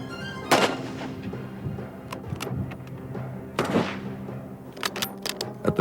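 Rifle shots fired in a timed series during a marksmanship test recreating the JFK assassination shooting; two sharp, loud reports ring out a few seconds apart, each followed by a decaying echo, with smaller clicks between.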